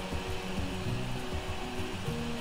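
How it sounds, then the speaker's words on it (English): A vacuum cleaner tool in a video game runs with a steady, loud droning whir and low rumbling hum, continuous and alone throughout. "The vacuum cleaner works,"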